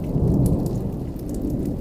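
Rolling thunder rumbles low and heavy beneath steady rain in a winter storm, a continuous loud wash that swells early and then holds at a constant level through the short stretch, with no voices.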